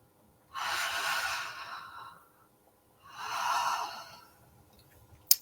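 Two slow, soft exhalations during connected breathwork, each a breathy rush lasting over a second, separated by a short pause in a quiet room.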